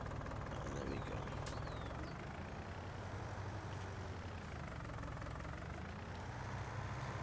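Tractor engine idling in the farming video game Farming Simulator 19, on the Felsbrunn map: a steady, low, even rumble that runs unbroken throughout, without pauses.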